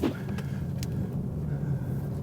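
A Toyota C-HR drives through tight bends with a steady, low engine and road rumble heard from inside the car, with no voices.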